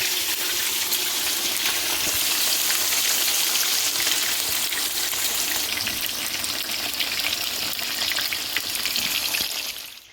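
Soy sauce chicken pieces fry in a pan of oil, Trinidad Chinese style. A loud, dense, steady sizzle and crackle runs close and unbroken for the whole stretch, with no talking over it.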